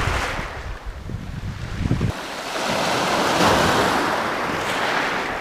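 Sea waves surging and washing near the shore of a remote island, a steady broad rush of surf with wind noise buffeting the microphone, continuous and fairly loud with no talking.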